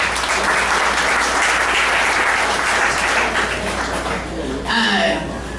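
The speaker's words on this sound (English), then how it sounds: "I would like to just first off give everybody a round of applause" Audience applause at a school-year kickoff gathering, steady dense clapping from a large crowd that fills the room and carries on throughout before thinning near the end, where a voice briefly cuts in.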